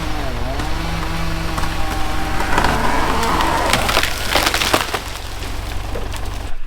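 A tree being felled at the edge of a field splinters and cracks as it comes down, a loud run of sharp woody snaps and crunching over a constant low engine drone, building to a crash.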